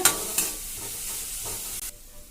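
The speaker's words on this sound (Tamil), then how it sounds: "சேர்த்துட்டு எல்லா காயுமே நல்லா வதக்கி விட்டுக்கலாங்க." Onion, carrot and capsicum sautéed in a pan for a Maggi noodle omelette, giving a steady close sizzle with brief clattering stirs near the start that fades quieter toward the end.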